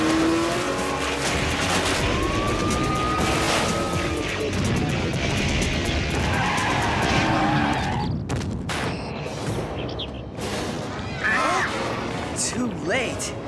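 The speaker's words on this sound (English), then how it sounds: "I've been waiting to test the truck's new nitro injection system." A cartoon truck roars along at speed with a nitro injection system, engine whine and rushing motor noise giving way to bursts of crashes and effects, with voices talking over parts of it.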